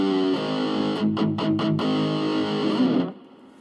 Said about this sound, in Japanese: エフェクターで作るよりもちょっと奥深い感じの歪みになります。